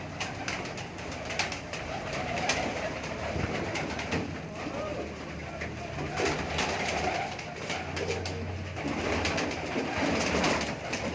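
Racing pigeons coo softly on a rooftop amid a busy outdoor background, with people talking and mechanical rumble mixed in throughout.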